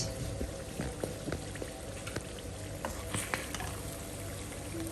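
Small native gura fish cook in a pan, giving a continuous low sizzle and bubbling with scattered pops, fairly faint and steady throughout, without speech over it.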